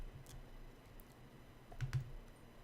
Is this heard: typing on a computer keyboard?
yes